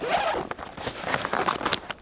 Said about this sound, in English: To open this up, we have a single zipper that goes across the top